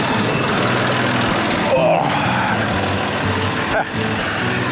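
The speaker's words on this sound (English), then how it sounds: "Let's leave the tractor running" A tractor engine idles steadily nearby, a continuous low rumble with a slight dip near the end, while people talk over it.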